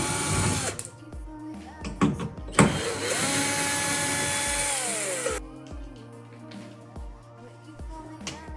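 Power tool backing screws out of an aluminium part on a 1999 Lotus Elise S1 during an anti-roll bar fitting, with loud whirring bursts, one long sustained run in the middle and short clicks and knocks between them.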